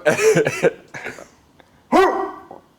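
A dog gives a few short, harsh barks at close range, sounding hoarse and odd, with brief gaps between bursts and no one talking over them.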